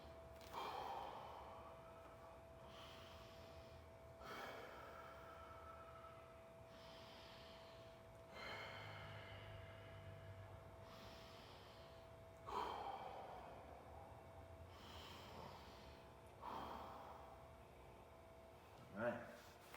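Slow, deep inhales and exhales during a child's pose stretch in a follow-along mobility class, about five long breaths with gentle pauses between, close to the microphone and fairly quiet.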